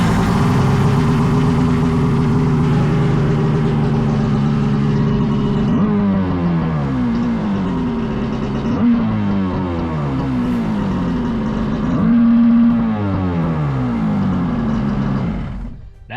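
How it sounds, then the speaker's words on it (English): A loud jet ski engine drones steadily, then revs up and down repeatedly at full throttle in rising and falling sweeps while being broken in, close by with no talking. "That's how you break in an engine."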